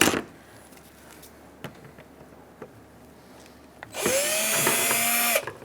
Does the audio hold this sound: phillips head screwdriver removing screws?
yes